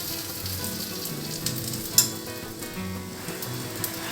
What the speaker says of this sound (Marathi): आणि व्यवस्थित ही शॅलो फ्राय करून घेऊया